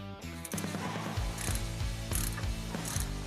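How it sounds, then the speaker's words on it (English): A torque wrench tightening a control arm bolt on a Polaris Ranger 1000, with a close, loud run of repeated ratcheting clicks in an uneven rhythm and no talk. "we're going to go ahead and torque this to 44 foot-pounds"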